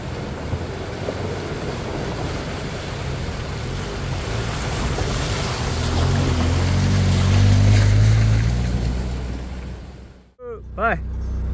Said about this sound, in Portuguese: Olha aqui onde a água passa, ó, pessoal.